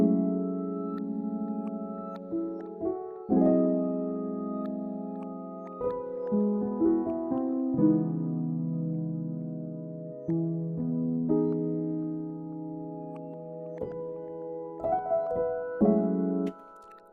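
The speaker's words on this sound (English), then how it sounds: "It's pretty much a bell and you just reverse it." Reversed bell tones from a Pigments synth playing over a piano beat. Sustained layered chords swell and cut off abruptly, shifting in steady blocks with short gaps between them. The tones are clean and moderately quiet, with no voices.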